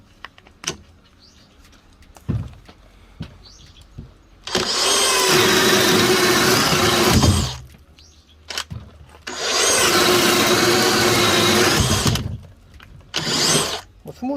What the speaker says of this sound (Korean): 그다음 2단으로 한번 뚫어 보겠습니다